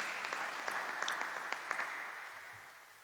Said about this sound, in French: je pense qu'on peut applaudir la sœur